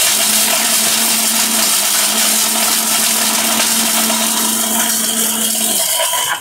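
A Steel Bush electric blender running at full power, a loud, steady high-pitched motor whine with a strong constant hum that holds for several seconds, then winds down abruptly at the end.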